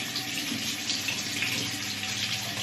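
Water runs steadily from a faucet at close range, a constant even hiss with no breaks or other sounds.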